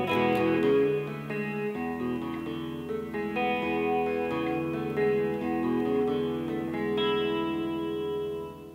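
Electric guitar playing a song's signature riff, opening on the open sixth and fourth strings, a steady ringing picked figure with effects-laden, chorus-like tone, full and sustained throughout.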